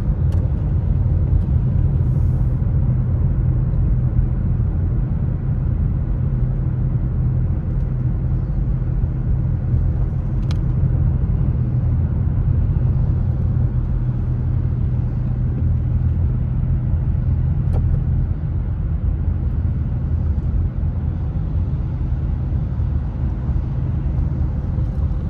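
A car driving up mountain road 38 toward Big Bear, California, through thick cloud and wintry conditions, giving a steady, loud, low engine and road rumble that holds constant throughout with no talking.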